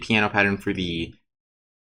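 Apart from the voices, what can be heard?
No everyday noises stand out.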